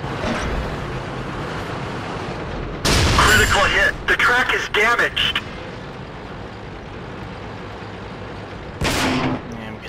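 Tank gunfire strikes a player's tank in World of Tanks: several loud, sharp bursts of shots and impacts stand out over a constant engine rumble, with voices talking in between.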